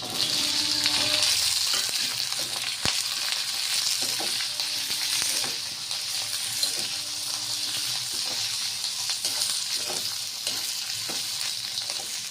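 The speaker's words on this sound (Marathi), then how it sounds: "आता यामध्ये त्या मिरच्या टाकून द्यायच्या।" Green chillies sizzle steadily in hot oil with garlic in a pan, a continuous close crackling hiss broken by occasional stirring clinks, with no voices.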